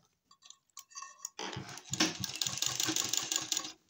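A sewing machine runs in a steady rapid stitching rhythm while a belt is sewn onto a readymade saree, preceded by a few soft clicks and taps.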